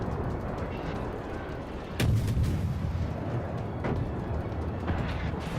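Turret cannons on a warship boom out in a naval combat game, a heavy blast near the two-second mark followed by further lighter shots over a steady rumbling background.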